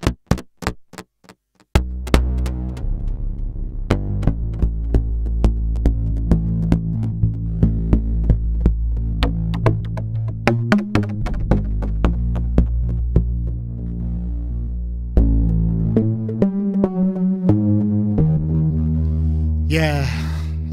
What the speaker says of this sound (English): that's the sound of the Pittsburgh Modular SV1 Lifeforms little desktop synth